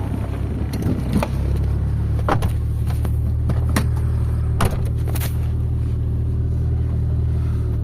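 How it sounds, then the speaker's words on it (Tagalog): Mitsubishi Lancer on a test drive after repair of a misfiring engine, heard from inside the cabin: a steady low engine drone and road rumble with a few sharp knocks and clicks, no talk. "Si sir magte-test drive mga bossing para ma-feel niya yung pagbabago ng kotse."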